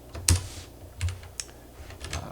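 Someone types code on a computer keyboard, a few scattered key presses and clacks close by, irregular and fairly soft, with no voices during the typing.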